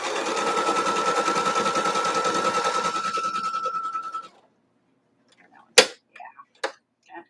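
A sewing machine stitches quilt pieces in a steady rapid rhythm for about four seconds, then stops; a few faint clicks and handling noises follow in the quiet.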